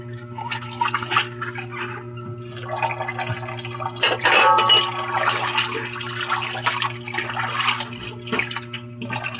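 Tap water runs steadily during dishwashing at a kitchen sink, a continuous splashing stream with small clinks and bumps of dishes, close and moderately loud, with no talking.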